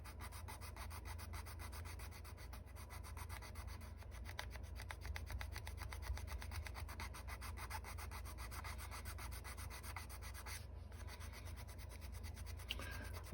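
Steady, continuous rasping of a flat file worked back and forth over a small plastic engine part from a 1979 Cale Yarborough Oldsmobile 442 Daytona 500 model kit, close and even throughout with no talking.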